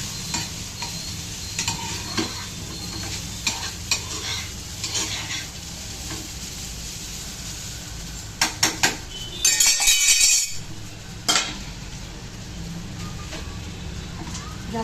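Khichdi sizzles and fries in a pan while a spoon stirs and scrapes through it, with a few sharp metallic clinks and a louder burst of scraping near the end; no one speaks.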